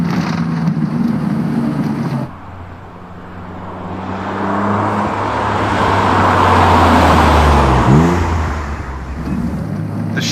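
A twin-turbo Mitsubishi Legnum VR-4 wagon engine revs steadily and loud and close, swelling and easing through a long run with a rough, gravelly note, with no talk over it.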